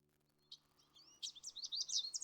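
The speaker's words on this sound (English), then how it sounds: "Bird song filters through the trees." Birdsong in trees on a fall nature walk: a faint, distant run of quick high chirps and tweets that grows busier over a quiet background.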